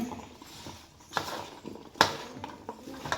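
Avial, a Kerala mixed-vegetable dish, being stirred and mixed in a pot, giving quiet scraping and clinking of a spoon against the pot in irregular strokes, with a few sharper knocks standing out.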